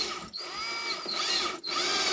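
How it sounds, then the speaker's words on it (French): A screw is driven into plasterboard with a powered screwdriver while fitting a repair piece over a hole, a steady whirring drive broken by two brief pauses, close and fairly loud. "Et j'ai plus qu'à visser."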